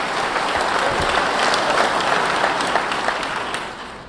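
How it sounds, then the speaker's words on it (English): An audience at the 2019 Los Angeles State of the City address applauds in a dense, sustained burst of clapping that tapers off slightly near the end. "We applaud you."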